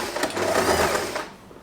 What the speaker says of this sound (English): I am going to stop sewing right here